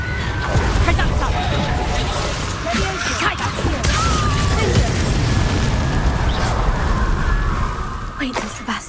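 A Reductor curse blast in the Hogwarts Legacy video game erupts as a loud, rumbling explosive burst with crashing debris, followed by a sustained roar and scattered impacts, with character voices over it.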